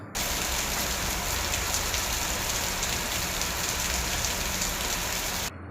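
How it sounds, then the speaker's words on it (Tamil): Moderate to heavy rain falls steadily and evenly as a dense, continuous hiss, with no voices. "2 மணி நேரத்திற்கு மேலாக விட்டுவிட்டு மிதமான மழை முதல் கனமழை பெய்து வருகின்றது"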